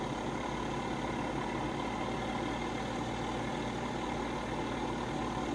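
Overheating tractor engine idling with a steady, even low rumble and broadband mechanical noise, moderately quiet and unchanging, with no voices over it.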